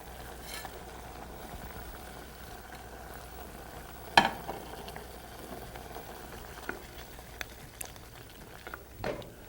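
Tomato chutney with brown sugar and salt cooking down in a pan, a quiet soft sizzle and bubble with a few light clinks and scrapes of stirring, one sharper knock partway through.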